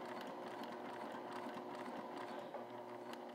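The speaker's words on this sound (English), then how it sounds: "we're going to sew right to that hash line we made at 1 7/8" A sewing machine stitches a seam toward a marked line on a handbag pocket, running steadily and continuously at close range with no talk.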